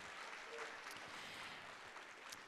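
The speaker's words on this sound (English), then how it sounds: "So let's give everybody a round of applause" An audience at a school district elementary and middle school choir festival gives a steady round of applause, a dense, even patter of many clapping hands heard from a distance in a large hall.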